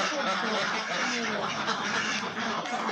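A flock of ducks on a farm, a dense chorus of overlapping quacks close by, with people talking among them.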